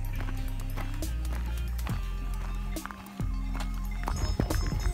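Donkeys' hooves clop irregularly on hard ground amid a busy outdoor background in the Alps, with footsteps continuing at a loose, uneven pace.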